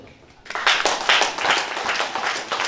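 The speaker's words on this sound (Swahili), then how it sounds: "Mpe makofi Ibrahim" Church audience applauding at an Easter service, a burst of clapping that starts suddenly and carries on steadily with mixed hand claps, a few voices blending in.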